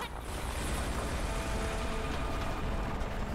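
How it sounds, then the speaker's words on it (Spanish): Helicopter in the Battlefield 4 campaign, set in the Kunlun mountains, makes a loud sustained rotor roar with dense low rumble that stays constant throughout, with no voices over it. "¡Helicóptero!"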